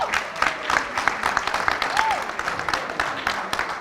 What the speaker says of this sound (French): Je vous demande d'applaudir la Cour.